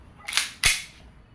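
Two sharp, close snaps from a WE 2011 Hi-Capa T-Rex airsoft pistol firing 6mm BBs, a quick double crack less than half a second apart.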